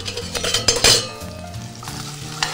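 Julienned Spanish onion sweating in olive oil with a pinch of kosher salt, giving a steady soft sizzle with utensil stirring and a few light clinks against the pan, close and moderately loud.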